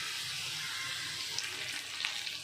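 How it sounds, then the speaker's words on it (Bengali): Onion and tomato fry in a pan with a soft, steady hiss of sizzling oil, close but fairly quiet, with a couple of small pops and no voices. "পেঁয়াজটা লাল করে ভাজা হয়ে গেছে এবং আমি টমেটোগুলো দিয়ে দিয়েছি।"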